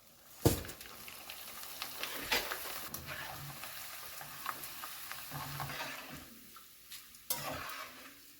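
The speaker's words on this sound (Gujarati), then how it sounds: "થોડા પૌવા ઉમેરીને તળી લઈશું." Poha (flattened rice) fries in hot oil with a steady crackling sizzle, punctuated by sharp clinks and scrapes of a stirring utensil against the pan.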